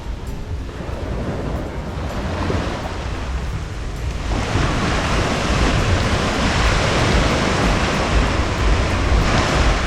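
Surf rolling onto Medano Beach in Cabo San Lucas, Mexico, a broad steady wash of breaking ocean waves that swells louder partway through, with some wind buffeting the microphone and no voices.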